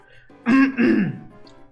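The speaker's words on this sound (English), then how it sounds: "Sorry about my coughing." A streamer clears their throat and coughs in a few close, loud bursts over about a second, with quieter rustling before and after.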